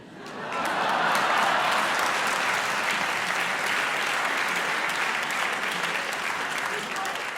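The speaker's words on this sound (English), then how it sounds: "I just want to invite one more round of applause for Robert Rosencrantz for making this possible" Audience applause at a formal live debate hall event, a broad sustained wash of clapping that swells in quickly and stays steady and full for several seconds.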